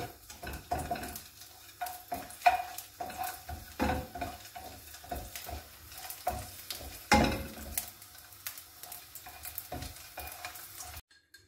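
Salmon pasta ingredients fry in a pan, with a low sizzle under frequent clanks and scrapes of a utensil against the metal as the food is stirred, ending abruptly.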